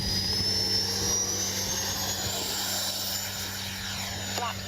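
A Freewing Zeus 6S 90mm electric ducted-fan sport jet, a radio-controlled model, taking off: a loud, steady high-pitched whine with a rising tone, heard up close at the flying field and holding on without a break.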